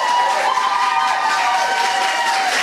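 A crowd at a Limerick event applauds and cheers, a dense, continuous wash of clapping with raised voices, held at an even level throughout.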